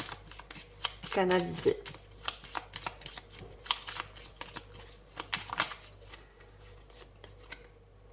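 Oracle cards being shuffled and drawn during a tarot-style reading, a quick riffling flutter followed by soft slaps and slides of card stock, with someone talking over the handling throughout.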